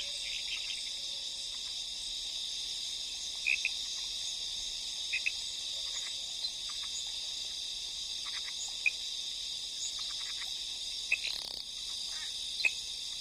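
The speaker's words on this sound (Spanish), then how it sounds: "La selva resuena cada noche de docenas de especies diferentes de ranas llamando por una pareja." Night jungle chorus of many frog species calling, a dense continuous high-pitched trilling wall with scattered sharper individual calls popping out near and far.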